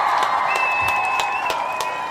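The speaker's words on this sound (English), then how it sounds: "we want to give all of the Imani babies a round of applause" A crowd gives a short, steady round of applause and cheering for the Imani babies at a gathering, dense clapping held at an even level for a couple of seconds.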